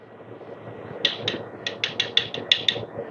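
A DF64V coffee grinder works through coffee beans in a series of loud, sharp bursts, about nine quick pulses in a row over a low background hum, with no talk.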